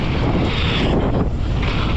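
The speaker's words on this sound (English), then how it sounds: "Oh, wind." Steady, roaring wind buffets the microphone of a rider descending the Flyup 417 mountain bike trail, loud and continuous across the whole stretch with no voices.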